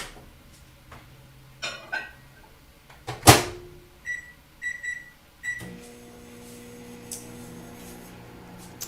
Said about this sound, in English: we're going to pop that in the microwave for 1 minute